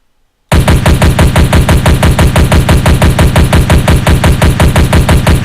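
Loud, relentless automatic gunfire from a homemade C++ first-person shooter game starts abruptly after a brief silence and continues as an unbroken, evenly spaced rapid stream of shots.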